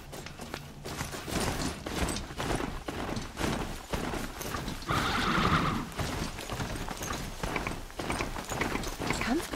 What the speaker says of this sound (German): So, komm, Pferd. Plötze.